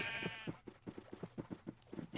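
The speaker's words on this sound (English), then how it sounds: "Can we lure these sheep back here?" Sheep bleat repeatedly in the Minecraft Tektopia mod, a series of short, evenly spaced blocky game calls at moderate volume with no talking over them.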